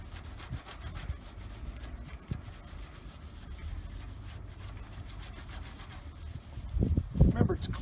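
Cleaner is rubbed by hand onto an old car's worn paint, a continuous soft scrubbing swish in quick back-and-forth strokes, close and faint, growing a little louder near the end.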